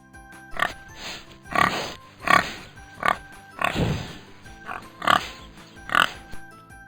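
A pig oinks and grunts in a steady series of about eight short, close snorting calls spaced roughly every second.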